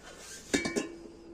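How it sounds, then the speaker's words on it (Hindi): Cups, pots and large cooking vessels clink and clatter as they are handled and set down after Eid in Kashmir, a quick cluster of three or four close metallic knocks in a quiet room, then a faint ringing fade. "ये सारे बर्तनों को मैं रखूँगी बाहर धूप में"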